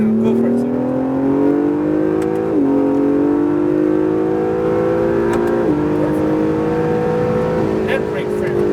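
A 2017 Acura NSX accelerating on a race track, its engine note climbing steadily in a loud sustained whine with two brief dips at gear shifts, heard from inside the car.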